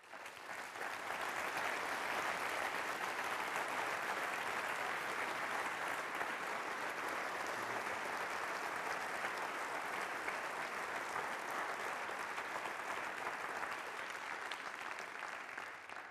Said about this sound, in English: We're going to measure the applause after my talk also.